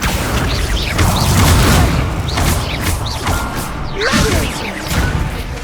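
Hogwarts Legacy spellcasting: the Incendio fire spell erupts in dense, continuous booms and whooshes with crackling bursts and repeated swishing sweeps, loud and close throughout alongside other combat effects.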